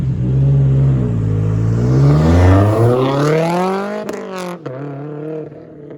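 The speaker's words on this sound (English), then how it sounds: "Here is an exhaust clip so you guys get an idea what I'm talking about." Subaru STI exhaust with equal length headers, revving hard. A loud, raspy engine note sweeps up and falls back, then a quick sharp blip follows near the end, close and alone with no talking.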